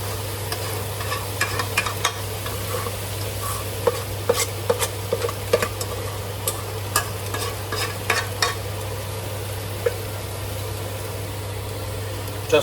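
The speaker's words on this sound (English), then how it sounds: "Fish and rice cooked up yesterday. That we are just going to saute as usual." Leftover fish and rice sauté in a pan under a constant frying hiss, with a steady low hum behind it and repeated sharp scrapes and taps of a utensil stirring throughout; no one speaks.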